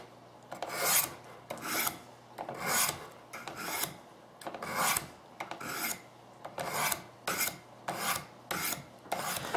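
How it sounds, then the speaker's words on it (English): A UST Sabercut razor saw is stroked over a Sharpmaker sharpener in about a dozen quick, regular rasping passes, each a bright scrape, heard close and clear with no talking. "let's give it a quick whisk here on the sharp maker"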